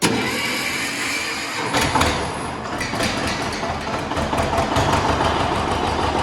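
A John Deere 730 diesel tractor engine cranks over and catches, then settles into a loud, close, rumbling run with a rapid knocking rhythm.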